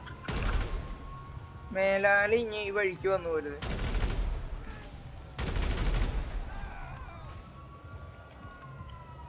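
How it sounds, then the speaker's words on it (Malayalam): Gunfire in a video game: sharp bursts of shots at the start and again near 4 and 6 seconds, loud and close, with someone talking in between and a siren-like tone sliding underneath. "പെട്ടെന്ന് വെടിയൊ കേൾക്കുന്നുണ്ട്"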